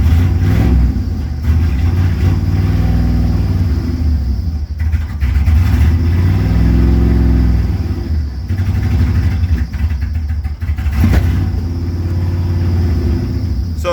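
The V8 engine of a 1987 Chevy Camaro Z28 with tuned port injection idles and revs with heavy blow-by, a loud close rumbling drone that rises and falls through the span.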